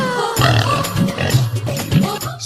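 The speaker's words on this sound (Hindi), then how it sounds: "सोना सुअर बन गई" A pig oinking loudly and close, a continuous run of nasal grunts and snorts that fills the whole moment with no voices, used as a comic transformation effect.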